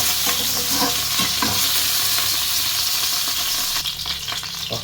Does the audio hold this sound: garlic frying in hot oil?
yes